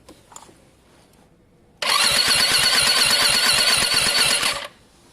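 A Lexmoto Diablo 125 motorcycle engine cranks over loudly and rapidly with its spark plug pulled for a spark test, a single sustained churning burst of about three seconds after a quiet pause.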